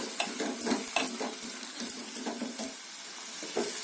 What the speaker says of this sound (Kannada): 1 ನಿಮಿಷದಷ್ಟು ಎಣ್ಣೆನಲ್ಲಿ ಫ್ರೈ ಆಗಲಿ ಆಲೂಗೆಡ್ಡೆ